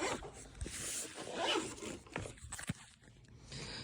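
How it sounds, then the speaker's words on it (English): A zipper is drawn along the fabric carrying case of a Sony PlayStation 5 DualSense Edge wireless controller, a case with a belt hook. The zip sounds close and continuous for about four seconds, with small catches and tugs. "Got some zippers on her here."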